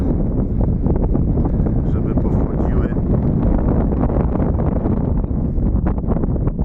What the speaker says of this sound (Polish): Wiatr mi się zmaga.